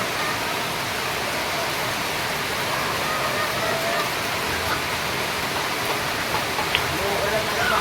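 Rain falls in a steady, dense hiss at a layer egg farm, an even broadband wash with no clear breaks, loud and constant throughout.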